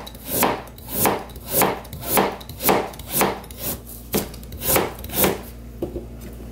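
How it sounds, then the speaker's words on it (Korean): A knife chops carrots into thin julienne strips on a cutting board, about a dozen crisp, evenly spaced strokes in a steady rhythm, close and clear, with no talking. "당근은 채를 써는데요"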